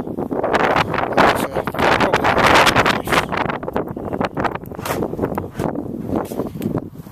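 A strong gale blows across a microphone outdoors beside a Renault Trafic campervan under conversion, with loud, continuous buffeting gusts and roaring rumble throughout, and no talk.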